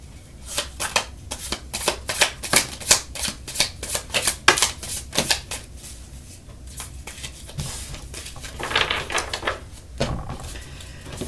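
Tarot cards being shuffled by hand, a dense run of close, crisp riffling flicks and slaps that eases into softer handling midway before a few more sharp shuffles, with no voice.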